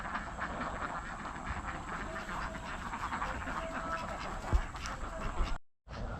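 A huge flock of about 1,600 ducks at Karuvatta makes a dense, continuous chorus of overlapping quacks and chatter that fills the whole stretch. It breaks off briefly near the end.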